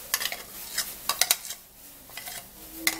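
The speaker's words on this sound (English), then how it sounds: "onion juice, and then we stir it all up" Onion juice mixture stirred in a bowl, a series of short scraping and clinking strokes in irregular bursts, close and fairly quiet, with pauses between strokes.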